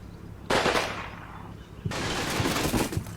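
Machine gun nest firing in the WWII strategy game Combat Mission, two loud sustained bursts of rapid automatic fire, the first dying away after about a second and the second continuing steadily to the end.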